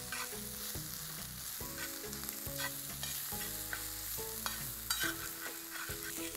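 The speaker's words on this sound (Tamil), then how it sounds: "இது பார்த்திங்கன்னா அப்படியே வதங்கிட்டு இருக்கட்டும்." Chili and coriander powders sauté with dried and green chilies in a hot pan, giving a steady close sizzle with repeated stirring scrapes and clinks throughout.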